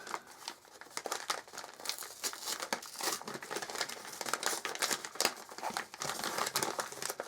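Continuous close crinkling and crumpling of plastic packaging as new pet supplies are unwrapped, busy rustling with occasional tearing, no talk.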